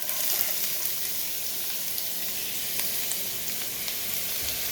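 Garlic sizzles in a hot pan for a Chinese eggplant dish with garlic sauce, a dense, steady crackling hiss with small pops, close and continuous throughout.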